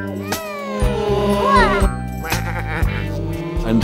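A cartoon sheep gives several loud, wavering bleats close up, over a bouncy children's music backing with a steady pulsing beat.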